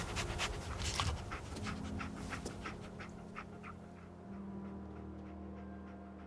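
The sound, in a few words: dog panting, Dogmeat in video game Fallout 4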